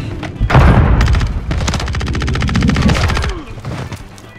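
Rapid submachine gun and automatic rifle fire in a video game shooter, dense bursts of rattling shots with a heavy boom near the start, loud and close, continuous for several seconds with no talk.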